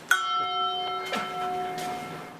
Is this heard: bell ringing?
yes